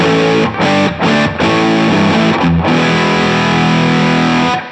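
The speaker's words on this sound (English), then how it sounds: "So I've put what appears to be a rat pedal in the front end." Electric guitar through a Rat distortion pedal modeled in Universal Audio Paradise Guitar Studio, loud, saturated chords with a few short choppy strums, then a long sustained ringing chord, played alone.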